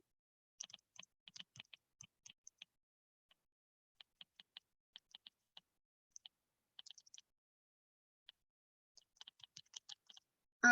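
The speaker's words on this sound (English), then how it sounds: "It's gonna take me a minute to type this" Fast, irregular clicking from typing on a computer keyboard, light, quiet keystrokes in short bursts with pauses between them, in an otherwise quiet room, ending in a brief louder knock.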